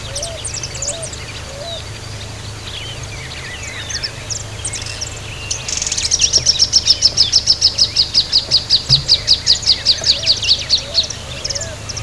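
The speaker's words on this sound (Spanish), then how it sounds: "El canto es una sucesión de trinos." Saffron finch (Sicalis flaveola) in Esperanza, Santa Fe, Argentina, singing a series of trills: scattered chirps early, then a loud, rapid rhythmic trill sequence over steady background ambience.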